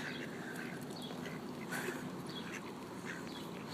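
Ducks quack repeatedly amid a noisy outdoor flock of waterbirds near a pond, the calls moderately close and overlapping with steady background bustle.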